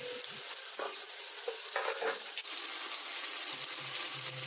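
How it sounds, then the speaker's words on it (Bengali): Turmeric-coated potatoes fry in hot oil in a wok, a steady close sizzle broken by repeated scraping stirs of a spatula, with no talk. "আলুর গায়ে হলুদ করে আলুগুলো সোনালি করে ভেজে তুলে নিতে হবে।"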